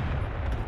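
MLRS rocket artillery strike in the video game Broken Arrow, a dense, sustained low rumble of explosions filling a brief moment, loud and continuous with no clear separate blasts.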